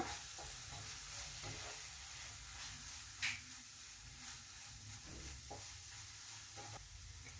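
Spice masala of coriander powder, pepper and garam masala heats in a pan with a soft, steady sizzle and light stirring, faint and close, with one brief scrape.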